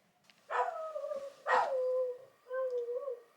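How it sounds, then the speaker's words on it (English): A dog howls in three drawn-out, wavering cries with short pauses between them, fairly close and clear, with no talking. "Whenever he hears sirens, he howls"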